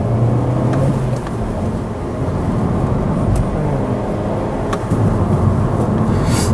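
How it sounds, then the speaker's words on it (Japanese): Skoda Yeti with a manual gearbox accelerating, its steady engine drone and low rumble holding loud and close from inside the cabin with road noise throughout, no voices. "ちょっとアクセル踏んでみたいと思いますね。"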